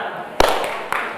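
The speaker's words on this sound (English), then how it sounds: "Ready for some clap? A little clap?" Two sharp hand claps at a live-streamed gathering, about half a second apart, the first louder than the second, close and fairly bright against a low room hum.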